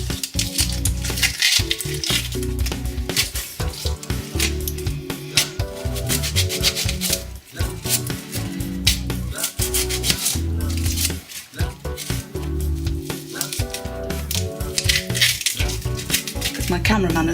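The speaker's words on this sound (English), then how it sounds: "Chop up your onions." Onions being chopped with a knife on a board for Italian tomato soup, a steady run of quick, close, repeated cuts continuing throughout with scraping and rubbing between strokes.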